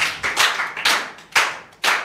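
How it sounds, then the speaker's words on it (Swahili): Sharp hand claps ring out at a political party gathering welcoming new members, coming in a few distinct bursts with short gaps between them, close and unaccompanied by talk. "Kwa hiyo tuwakaribishe kwa makofi mengi sana."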